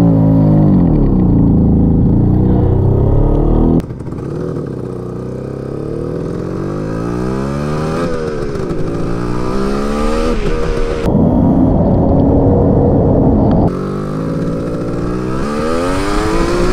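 A Suzuki GT550 two-stroke triple motorcycle accelerates hard and loud up close, its engine pitch rising through several gears, with brief drops at each shift.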